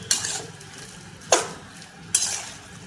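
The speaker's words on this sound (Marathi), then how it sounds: "हे आता चांगलं हलवून घेऊया" Spoon stirring marinated chicken for a dry chicken sukka in a metal pot, three separate scraping strokes spaced about a second apart, close and fairly quiet with no talk.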